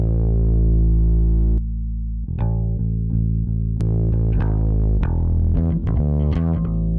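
A bass heavily distorted through the SKnote Disto plugin, with its attitude control pushed, growls through a long sustained note, then a series of plucked, buzzing notes with a gritty, fuzzy edge.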